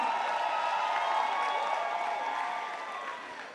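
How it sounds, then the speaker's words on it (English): Sustained audience applause at a stage play performance, a dense wash of many hands clapping that holds steady and then gradually thins and fades toward the end. "please a big round of applause for Timmy Dakolo"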